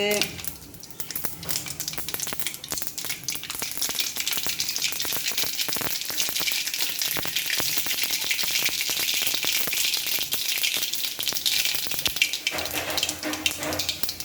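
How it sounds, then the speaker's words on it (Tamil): Mustard seeds crackle and splutter in hot oil, a loud, dense, continuous sizzle full of rapid pops that fills the whole stretch without a break. "இனி கடுகு கொஞ்சம் பொட்டட்டும்."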